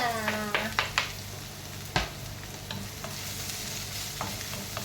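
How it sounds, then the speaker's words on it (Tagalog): Garlic and onion sauté in a hot pan, a continuous sizzle broken by sharp scraping clicks of a utensil stirring against the pan, with a brief voice fragment at the start. "Tapos sunodin natin yung bawang at saka sibuyas."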